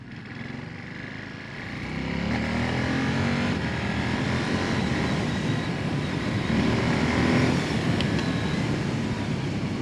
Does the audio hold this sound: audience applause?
no